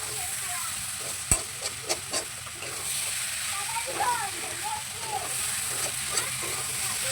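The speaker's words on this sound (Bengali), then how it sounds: "এবার ভালো করে কষিয়ে নেবো।" Pumpkin and potato curry with cumin and coriander powder is stir-fried in a pan for a Medinipur-style chachchari, a steady close sizzle with a few sharp spatula scrapes and knocks early on and soft stirring throughout.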